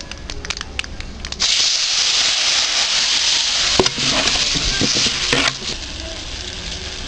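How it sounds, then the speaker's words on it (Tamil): Tamarind extract poured into hot oil with ground masala for Iyengar puliyodharai, bursting into a loud, steady sizzle that holds for several seconds, with a few stirring clatters and a brief spike partway through. "அந்த புளிக்கரைசலை நம்ம இதில் ஊற்றுறோம்"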